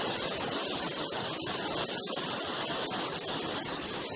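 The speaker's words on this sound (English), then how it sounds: "And there's the beautiful waterfall." A large waterfall on a volcanic island pours in a steady, loud, unbroken roar that fills the whole scene, with no voices over it.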